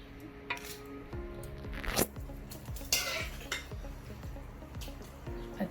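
Chicken and rice for biryani being stirred in a metal pot, with repeated clanks and scrapes of a spoon against the sides in an uneven rhythm, close and fairly quiet, faint sizzling beneath and no talking.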